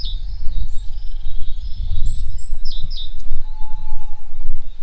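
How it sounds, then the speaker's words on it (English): Birds chirp and twitter in a dawn chorus over a loud, low rumbling background, with a few high calls standing out, at a medieval chateau. "you can hear all the birds"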